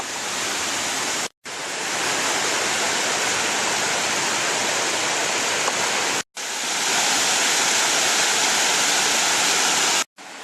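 A creek beside the Little East Fork Trail rushes steadily in a dense, loud, continuous wash of water, broken only by a few brief cuts.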